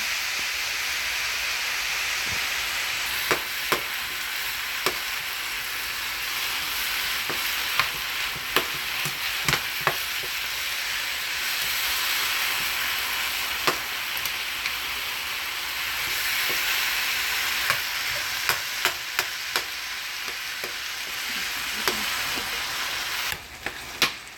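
Ground beef for tacos sizzles loudly in a pan throughout, with a steady hiss broken by frequent sharp scrapes and taps of a utensil stirring and breaking up the meat, and no talk.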